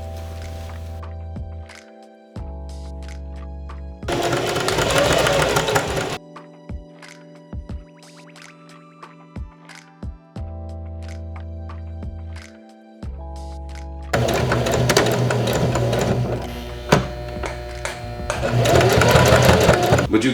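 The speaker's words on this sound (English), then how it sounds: "Regather the fabric, then resew that back down." A sewing machine stitches back down a fabric seam that was opened and regathered, running in several loud bursts of steady whirring with quieter gaps between them. Faint talk sits under parts of it.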